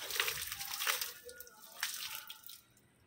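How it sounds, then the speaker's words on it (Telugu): Fertilizer water sprayed over garden plants like a shower, a soft hissing spray in uneven bursts close by, fading toward the end. "ఒక వర్షం పడే విధంగా మనము ఈ ఫర్టిలైజర్ని ఇచ్చేసేయాలి"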